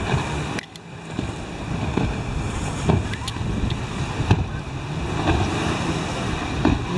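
A speedboat planing across Lake Baikal near Listvyanka, its engine and hull slap blending into a steady rushing wash of water and wind, loud and continuous with a few sharp knocks, no talk.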